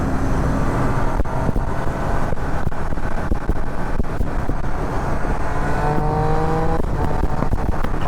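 A Triumph Speed Triple 1200 RS engine drones loudly under heavy wind rush, climbing in pitch toward the end as the rider revs it on a first ride.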